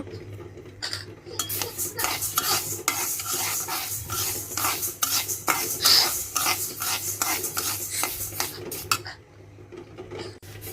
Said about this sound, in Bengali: আরেক চুলায় মুগ ডালটা ভেজে নিব